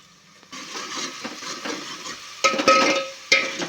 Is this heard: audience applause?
no